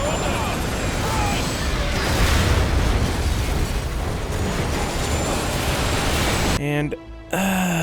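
A helicopter is shot down in the shooter game Call of Duty: Modern Warfare 3, and its crash and explosion roar loudly for several seconds, followed by a sudden drop into quieter game sound near the end.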